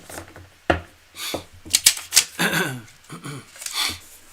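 Tarot cards shuffled by hand in a few quick bursts of riffling and tapping, close and crisp, with brief pauses between rounds.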